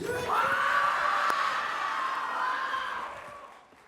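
An awards show audience screams and cheers loudly, a dense wall of high-pitched shrieks that peaks early and then fades over about four seconds.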